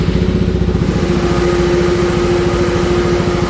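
A Suzuki DR-Z400SM single-cylinder motorcycle with the factory tune and an aftermarket exhaust, idling and revving loudly up close with a steady, rapid thumping beat and no talking.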